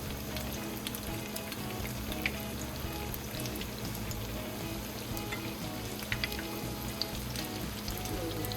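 Zucchini flower fritters fry in a pan of oil with a steady, soft, continuous crackle and faint bubbling, alone and without talk.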